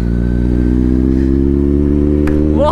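Kawasaki Z900 motorcycle engine holding a loud, steady rev close by after a wheelie ride, with a deep unbroken drone and a brief sharp click near the end.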